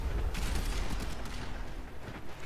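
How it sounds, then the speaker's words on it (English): Explosions and heavy blasts in the video game Warframe, a loud, sustained rumbling burst of booms that fills the whole moment with dense low-end energy, fading slightly toward the end. "That explosion"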